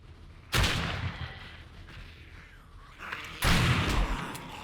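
Gunfire in 7 Days To Die, two loud, close shots spaced about three seconds apart, each with a booming tail, over quieter background rumble.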